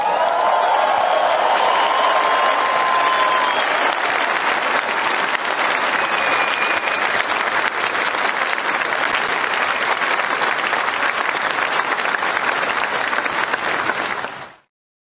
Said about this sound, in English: these people are standing up and giving him an ovation